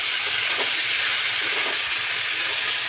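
Water poured into a hot pan of frying spices and red chilli sets off a loud, steady, broadband hiss that holds evenly and close throughout, with no voices.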